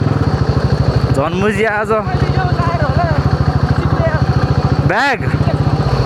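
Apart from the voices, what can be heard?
KTM Duke motorcycle engine with loose silencer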